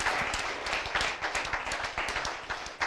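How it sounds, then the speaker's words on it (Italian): A small audience at a cyclocross race event claps for a young rider, with distinct, uneven individual claps close by that form a brief, sparse round. "Fategli un applauso."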